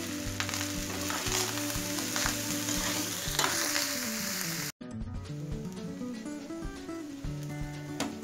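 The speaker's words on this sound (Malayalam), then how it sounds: "ഇത് നന്നായി യോജിപ്പിച്ച ശേഷം ഫ്രൈ ചെയ്ത പനീർ ഇട്ട് ഇളക്കുക." Paneer pulao ingredients with green chilli sauce, pepper powder and spring onion sizzle steadily in a pan while being stirred, a continuous close frying hiss over a layer of background music.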